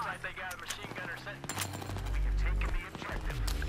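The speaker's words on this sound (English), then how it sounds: "I've spotted a hostile machine gun in your AO" Machine gun fire in the Battlefield 3 video game, Operation Riverside map, crackling in rapid bursts amid other battle noise, with a heavy low rumble swelling midway.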